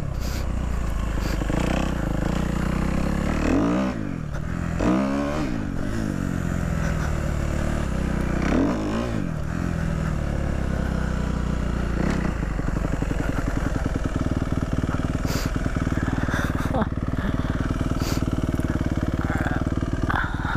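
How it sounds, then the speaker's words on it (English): Dirt bike on a rough abandoned dirt road, engine revving in several sharp bursts before settling into a steady close chugging run, with clatter from the bumpy ride. "See if I can get a little wheelie going right here"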